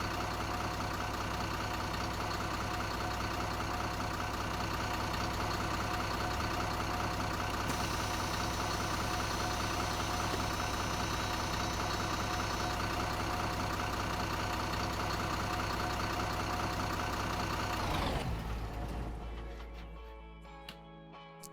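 A city bus idles in the OMSI 2 bus simulator game, a steady low rumbling engine running evenly for a long stretch before it shuts off and fades near the end.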